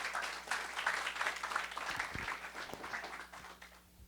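Applause from the audience at a national leadership workshop and networking meeting, a fairly faint, even patter of clapping that gradually fades out.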